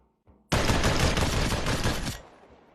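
Gunfire in the VR shooter Population One, heard as one loud, sustained burst of rapid automatic shots lasting about a second and a half, with a short quiet lead-in.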